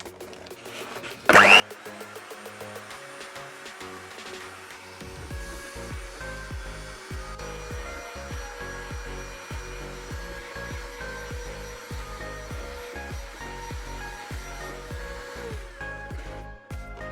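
An electric hand mixer whips cold cream taken from the fridge for a cake, a steady whirring hum with repeated knocks of the beaters against the bowl, after a short loud burst at the start.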